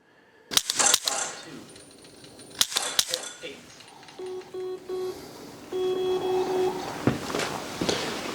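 Mantis laser training pistol dry-fired at targets, a series of sharp clicks in quick clusters, followed by short electronic beeps from the scoring app, close and with faint talk in the background.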